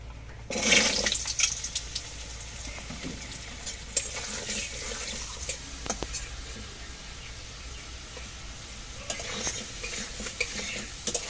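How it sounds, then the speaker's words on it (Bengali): Potatoes dropped into hot oil for a soyabean aloo dalna, starting with a loud burst of sizzling that settles into a steady, close frying hiss with occasional stirring sounds. "তেল গরম হয়ে গেছে সয়াবিন রান্নার জন্য। আলুগুলো আগে ভেজে নেব।"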